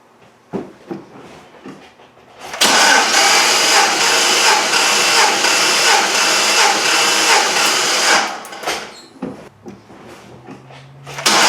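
A Cadillac CTS-V engine cranks over during a compression test, a loud, steady whirring burst of about six seconds, close by, with scattered clicks and handling noises before and after.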